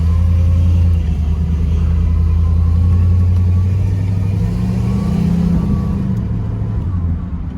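A 1969 Dodge Polara with power drum brakes and power steering rolls along on a drive around the block, its engine a steady, loud low rumble that holds throughout and eases off slightly near the end.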